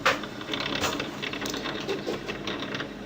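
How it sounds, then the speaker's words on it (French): A home printer-scanner scans an image, giving a faint run of mechanical whirring with small ratcheting clicks as the scan head moves, steady and close with no voices. "Cliquez sur OK pour lancer la numérisation."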